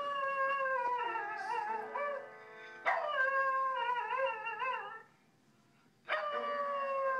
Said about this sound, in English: What's that puppy singing?